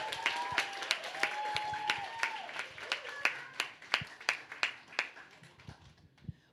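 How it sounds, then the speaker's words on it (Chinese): A church congregation at a Sunday worship service applauds with brisk, uneven clapping, and a few high excited cheers rise early on. The clapping builds into louder, sharper claps before it stops abruptly. "再次热烈掌声加尖叫！"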